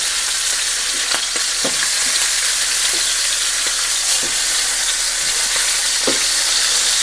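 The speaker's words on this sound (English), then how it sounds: "Just want to try and get a little bit of a sear on all sides." Meat sears in a hot skillet, a loud continuous sizzle with intermittent scraping and clatter as the pieces are turned to brown on all sides.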